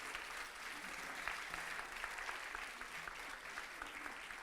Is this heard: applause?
yes